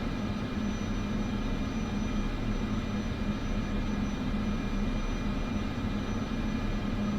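A Cessna Grand Caravan turboprop in MSFS 2024 holds low idle while taxiing, a steady continuous drone with a low hum and broad whine, even and unbroken throughout, no voices.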